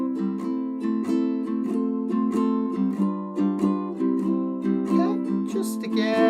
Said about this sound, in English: we're just going to strum a simple up and down swing strum